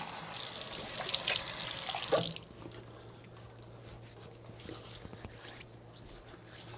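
Tap water runs steadily into a sink during wudu ablution, a loud close splashing stream for about two seconds. It then cuts off, leaving faint drips and wet hand sounds against a low hum.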